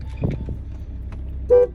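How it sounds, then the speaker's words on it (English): A Rover 75 car horn gives one short, loud toot near the end, preceded by faint knocks and shuffling inside the car. "Horn works."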